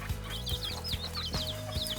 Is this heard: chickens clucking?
yes